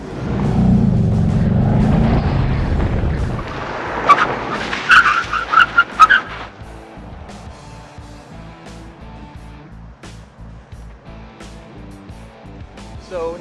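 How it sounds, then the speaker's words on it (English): A 2019 Mustang brakes as hard as possible on a test course with boxes ahead, giving a loud, sustained tire skid for about three seconds, then scattered squeals and thumps and a steady idling rumble under a little speech. "I'm going to mat the brake pedal as hard as I can"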